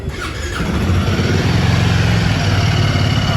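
A Royal Enfield Guerrilla 450 single-cylinder motorcycle cranks and fires, then settles into a loud, close, steady idle with a throbbing low-end pulse.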